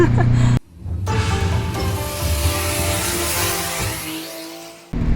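A Mazda RX-7 FD with a new rotary motor runs loud and close, its engine note sustained and revving between abrupt cuts at the start and end, with no talk over it.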